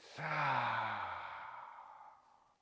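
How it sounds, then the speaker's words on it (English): A single long breath out through the open mouth during a yoga cool-down, a soft breathy sigh that swells quickly and fades over about two seconds, close and alone. "Open the mouth, breathe out."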